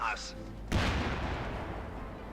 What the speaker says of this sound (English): Looks like the scout carrier set off the anti-tank mine,